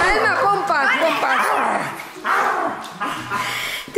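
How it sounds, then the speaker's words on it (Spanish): A dog makes odd whining, yodeling vocalizations up close, rising and falling in pitch, with bursts of howl-like yips. "No ladra, hace sonido raro, ¿no?"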